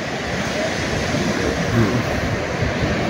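Waves wash onto a beach in a steady, continuous roar of surf, loud and close, with strong wind buffeting the microphone throughout.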